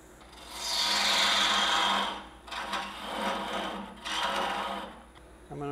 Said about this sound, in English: So we can get in there and sand, and now we'll do some polishing.